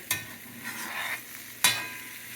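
Corned beef hash stirred and frying in a pan, a soft continuous sizzle broken by two sharp scraping strokes of the utensil against the pan.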